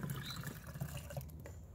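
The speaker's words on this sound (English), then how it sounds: "Add a little water." Water is poured onto a garden plant, a close, soft stream of splashing and trickling liquid that runs for a moment and then tapers into a few drips.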